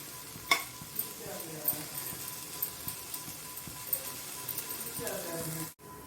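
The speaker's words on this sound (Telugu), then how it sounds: "ఇప్పుడు మనం హైలో పెట్టుకొని ఫ్రై చేసుకోవడమే." Potatoes frying on high heat in AMC cookware, with a soft continuous sizzle broken by repeated scraping and stirring clicks of a utensil against the pan, fairly close and moderately quiet.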